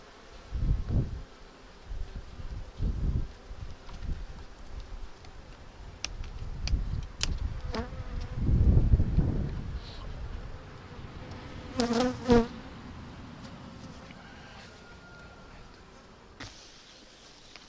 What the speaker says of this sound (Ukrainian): бджолки, а ну тікайте трошки.